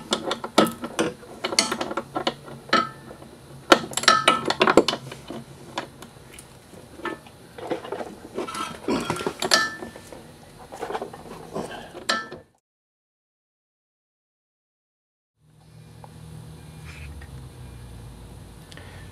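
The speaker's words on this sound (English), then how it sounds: "Put a wrench on this side, ratchet on that side, break it loose, spin it all the way out" A ratchet clicks rapidly in bursts against other mechanical clatter while loosening a rear upper control arm bolt on an Audi A4 B5 1.8T. A quiet pause follows, then a low hum.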